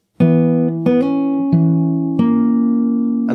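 Fingerstyle acoustic guitar plays a short phrase from a song, four distinct plucked chords or note groups ringing in steady succession, close and clear with no voices.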